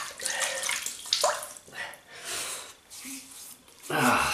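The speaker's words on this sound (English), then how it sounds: "just wet the face" Water splashed by hand onto the face to wet it before a shave with a Gillette Aristocrat safety razor, a run of close, irregular wet splashes and dribbles with short breaths between, growing louder at the end.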